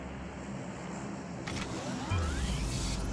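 A car approaches in a multiplayer shooter video game: a faint engine hum swells into a louder, nearer rumble over the last second or so, with a brief whirring sweep just before it, and no one talking.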